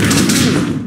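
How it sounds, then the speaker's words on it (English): Wrestler slammed onto the ring mat with a power bomb at a live wrestling show, a single loud, heavy thud that booms and rings out briefly. "Nice power bomb."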